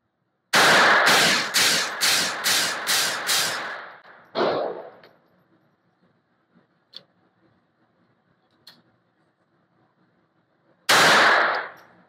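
A Beretta Model 21A Bobcat pistol fires seven sharp, rapid shots in a quick string at 15 feet, then one more after a pause. Faint clicks and handling noises follow in near silence before a final loud report.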